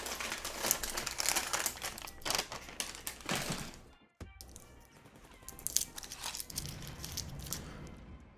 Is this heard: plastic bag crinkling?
yes